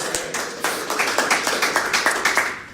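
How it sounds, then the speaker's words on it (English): Audience clapping after a quiz segment at a talk event, a steady run of fairly sparse, distinct claps close by with a regular rhythm, no talking over it. "Big round of applause for Al Stewart."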